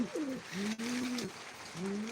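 Pigeon cooing close by, a few soft, throaty low coos in quick succession, with faint background noise behind them.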